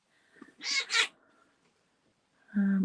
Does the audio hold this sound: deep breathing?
no